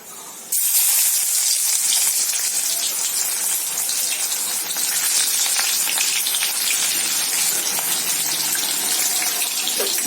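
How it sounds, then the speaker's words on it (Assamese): Chopped onions hit hot oil for an egg curry and burst into a loud, steady sizzle that starts abruptly about half a second in and holds evenly to the end, with no voices. "মই অলপ ৰঙচুৱা হোৱালৈকে পিঁয়াজখিনি অলপ ভাজি নিম।"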